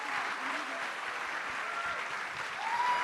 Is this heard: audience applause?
yes